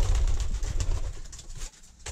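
Pigeons in a loft coo in low, throaty bursts while scuffling with beaks and wings, the calls close and moderately loud, tapering off toward the end.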